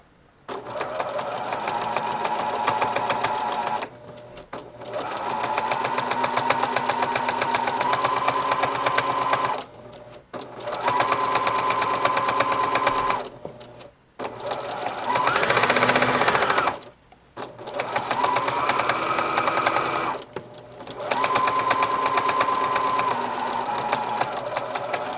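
A sewing machine stitching a seam on child boxer briefs runs in long, steady whirring bursts of several seconds, separated by short pauses, loud and close with no talking.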